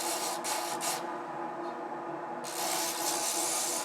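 A wooden spoon being sanded by hand, a close, continuous rasping rub with brief pauses and shifts in stroke, and no talk.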